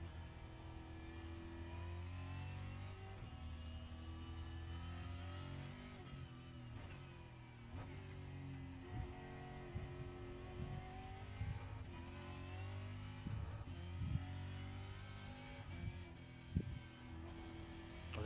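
Race car engine in the iRacing sim while power sliding through corners: a continuous, close, strained drone with shifting pitch, rising and falling revs and occasional sharp bursts, fairly quiet overall with no talk.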